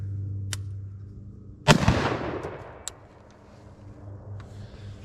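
A single sharp rifle shot rings out during an ammunition torture test, close and loud, with a long echoing decay outdoors and a few faint clicks before and after.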